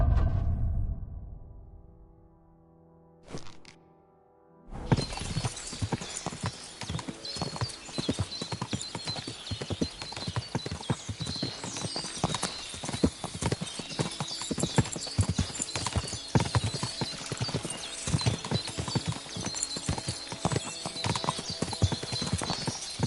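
Horse hooves clip-clop in a steady, close rhythm for about eighteen seconds, following a quieter opening with a brief sharp knock, with no talking over the hoofbeats.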